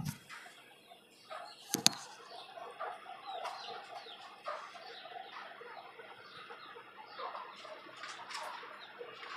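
A five-month-old tiger rooster clucks on a rooftop chicken farm, with scattered soft clucks and chirps from nearby fowl and one sharp, loud burst near the start, all fairly faint.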